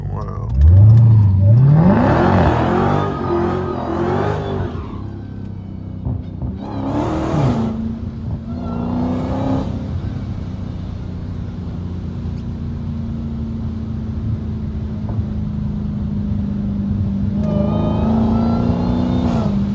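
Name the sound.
Hellcat car engine revving while drifting in second gear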